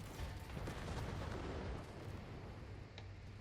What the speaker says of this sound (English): there's an airstrike coming down.